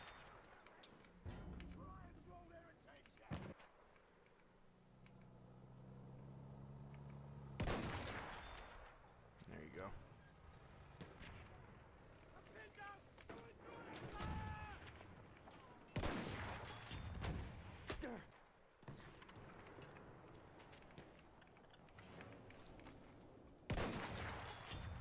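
Gunfire in Battlefield 1 during online multiplayer, scattered shots and rapid bursts coming in clusters with quieter gaps, some near and sharp, mixed with battlefield noise and occasional voices.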